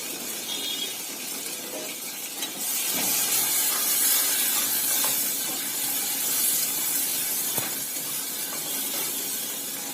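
Spring onion leaves sizzle in hot soybean oil in a wok, a steady broad hiss that swells louder after a few seconds and holds, with faint clinks of utensils.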